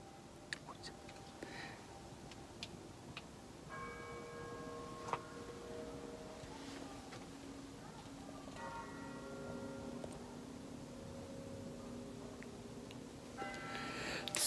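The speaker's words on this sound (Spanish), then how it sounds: "Suenan las campanas del ocaso, señor." Church bells ring faintly at sunset in Meteora, Greece, a series of distant tolling strikes spread through the passage beneath a close, soft whispering voice and handling rustles.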